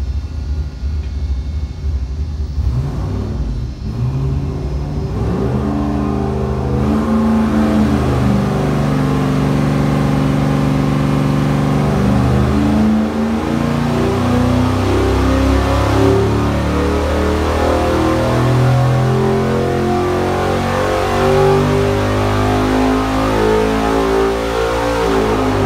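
A junkyard LS V8 engine starting up and running, a loud close idle rumble rising into several revs that climb and fall in pitch.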